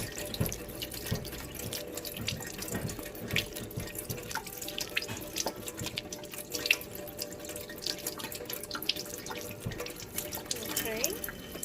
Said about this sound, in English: Then I like to go ahead and rinse it off after. Give it a good rinse.